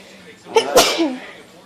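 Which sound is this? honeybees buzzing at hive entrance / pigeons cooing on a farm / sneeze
sneeze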